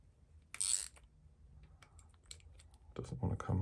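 Wrench work on a stuck, cross-threading nut on a badly worn carburettor, with quiet metallic clicks and scrapes, a brief sharp clatter early on and a burst of louder mechanical rattling at the end, under light background talk.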